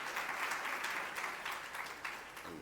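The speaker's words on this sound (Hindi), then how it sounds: "तालियां बजाओ भैया" An audience at a Hindi devotional discourse gathering claps in a faint, steady round of applause for a little under three seconds, tapering slightly toward the end.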